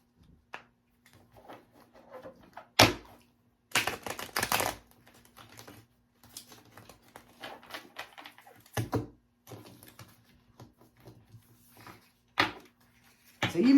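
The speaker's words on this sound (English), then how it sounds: "I'm going to shuffle them a little bit at a time" Intermittent crisp riffling and clicking bursts, some short and some longer, separated by quiet pauses, close up, like cards being shuffled in small batches.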